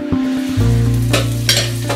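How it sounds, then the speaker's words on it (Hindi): Butter hits a hot grill pan and sizzles steadily at close range over a low hum, with a few soft scrapes and taps as it spreads. "हमारा ग्रिल पैन अच्छे से गर्म हो गया है। आइए अभी इस पे डाल देते हैं बटर।"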